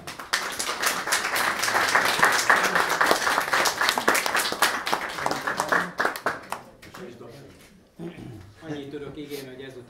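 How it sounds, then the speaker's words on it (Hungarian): An audience at a Miskolc talk evening breaks into dense, steady applause for about six seconds before it thins out and a voice begins speaking. "Ez egy tapsot érdemel mindenképpen."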